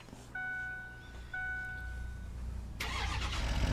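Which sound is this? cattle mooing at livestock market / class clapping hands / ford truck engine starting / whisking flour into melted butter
ford truck engine starting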